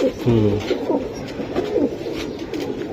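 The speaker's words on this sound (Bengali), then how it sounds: "সিলভার গেটআপের কবুতর" Silver getup pigeons coo in a close, repeated series of low, throaty calls that rise and fall in short rolling phrases, with faint room noise behind them.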